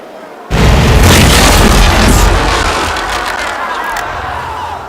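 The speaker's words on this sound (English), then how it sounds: "Bow chasers, fire!" Bow chaser cannons fire aboard a sailing warship in a naval combat game, a loud booming blast that erupts suddenly and rolls on as a long, fading roar.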